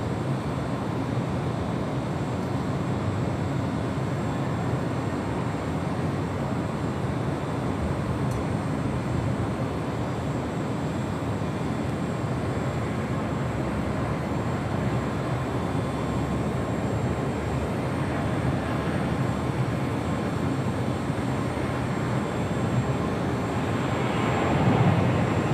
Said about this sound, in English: A350-900 is the next arrival.